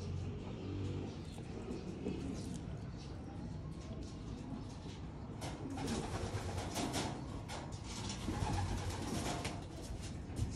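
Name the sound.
pigeons cooing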